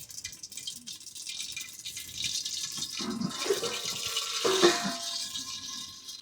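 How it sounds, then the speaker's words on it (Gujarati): Mustard seeds crackle and pop in hot oil in a pan, a dense, fizzy spatter of fine pops that swells and thickens toward the end, with no talking. "રાઈ ફૂટી ગઈ બધી"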